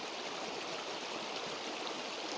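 A small natural stream flows steadily with a constant rushing, gurgling wash that stays even throughout.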